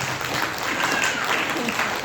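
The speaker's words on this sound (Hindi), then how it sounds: "तालियां तो बजा दिया।" An audience at an Arya Samaj devotional gathering claps, a continuous dense wash of applause at even volume, with some voices mixed faintly underneath.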